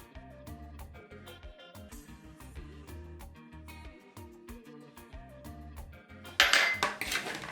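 Seasoned beef is stirred with spices in a bowl for Haitian pumpkin soup, faint utensil clinks and scrapes over background music, with a louder clatter of metal near the end.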